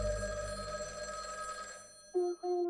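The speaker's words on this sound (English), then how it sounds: "Hey, the phone is ringing." A telephone rings in the video game Schrödinger's Call, a loud electronic double-pulse ring following a fading musical tone, close and alone.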